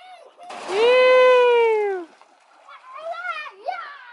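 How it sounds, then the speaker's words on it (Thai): Children play at a large waterslide pool: a long high-pitched child's shriek rings out, followed by more excited children's voices and faint water activity in the background. "เด็กๆก็เล่นน้ำกันนะครับก็นี่ก็เป็น สนามกีฬา ทางน้ำใหญ่ที่สุดแล้ว"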